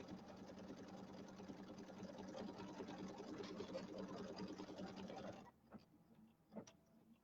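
An embroidery sewing machine stitching spider legs on a Halloween pillow makes a rapid, even mechanical chatter that runs for about five seconds and then stops, followed by a few faint clicks.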